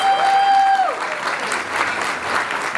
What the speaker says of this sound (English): Round of applause for Mia.